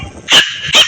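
A Pomeranian dog gives two sharp, high, close barks in quick succession.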